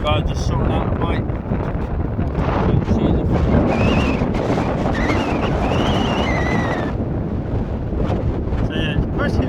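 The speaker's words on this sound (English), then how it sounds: "So yeah, it's pretty windy" Strong gusty wind buffets the microphone on a beach at Sotavento, Fuerteventura in the Canary Islands, a loud constant roar with surf beneath and a few faint higher tones.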